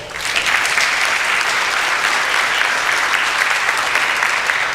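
Steady, dense audience applause at a panel discussion on suicidal ideation, welcoming a police officer to speak; the clapping builds quickly and holds evenly at close range with no voices.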